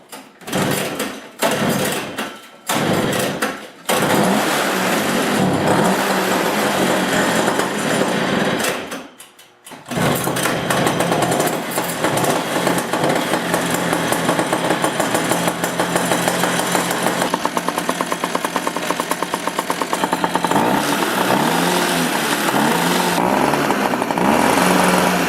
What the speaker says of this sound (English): I've gassed it up, and now it's time to give it a quick start to see if it runs or not